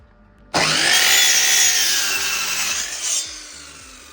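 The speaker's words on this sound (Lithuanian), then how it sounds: "einam pjauti intarpus" A saw cutting wooden inserts for a sauna being built, one loud, close, continuous cutting pass lasting about three seconds, then a brief tail-off, with no voices.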